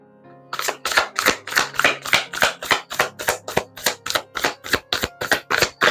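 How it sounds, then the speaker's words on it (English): Tarot cards are shuffled briskly in a steady riffle, about fifteen sharp, close bursts in regular rhythm with no talking. "I'm shuffling hard for you, Queen."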